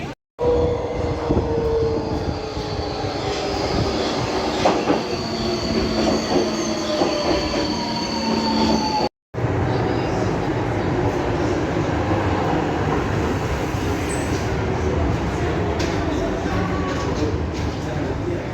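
A train rolls past on rails for a long, steady stretch, wheels rumbling and squealing with high metallic tones, loud and close, with a brief cut midway.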